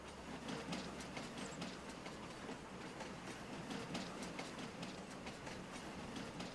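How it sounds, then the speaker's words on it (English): A train pulled by two engines in Farming Simulator 25 rolls steadily past with rhythmic clickety-clack of wheels over rail joints, a continuous rumbling wash of track noise at moderate distance, no talking. "There's the front of the train. Got two engines."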